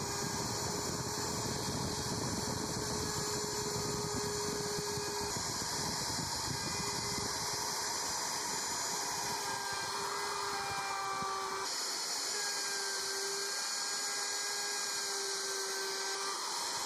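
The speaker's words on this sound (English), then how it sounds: "I'm about to route the mortises and the legs" A slot mortiser routes mortises into wooden dining chair legs, a steady whining machine drone with a continuous high tone that runs throughout, its lower rumble dropping away partway through as the cut eases.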